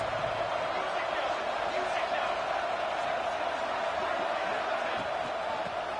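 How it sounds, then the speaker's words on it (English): A dense roar of a large crowd at an American football game fills the whole stretch, steady and loud, with a broadcaster's voice talking over it. "Listen to the crowd energy here in the early going."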